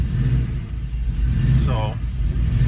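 A 302 Mustang with a GT45 turbo swap idles with a steady, low engine rumble that runs throughout, with a brief higher tonal whine partway through.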